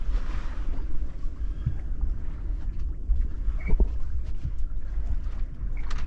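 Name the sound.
sailboat sailing under mainsail, wind and water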